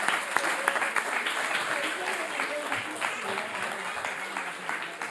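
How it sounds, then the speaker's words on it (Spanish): A church audience applauds volunteers, sustained clapping from many hands filling the room at moderate loudness and carrying on steadily for several seconds. "un aplauso para los voluntarios"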